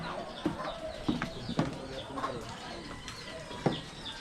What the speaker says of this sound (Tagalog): i-check ko muna yung mga manok. Kasi maingay siya eh.